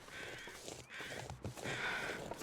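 Crows caw in the survival video game The Long Dark, a few harsh calls repeating in bursts over a steady windy ambience, moderately distant and with no talk over them.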